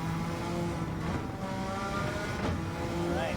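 Suzuki Escudo race car in Gran Turismo 7 lapping the Nürburgring Nordschleife, its engine droning and revving with shifting tonal whine, moderately loud and continuous without talk.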